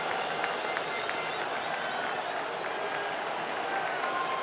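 A baseball crowd made up mostly of Puerto Rico fans at a World Baseball Classic game against Venezuela keeps up a steady, loud roar of cheering and applause throughout.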